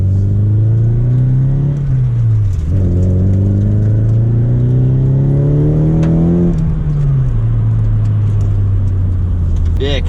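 A Nissan Silvia S15 Spec R with stock side-mount intercooler and airbox pulls out of a driveway, its engine droning steadily, rising and falling as it accelerates, loud and close with some talk over it.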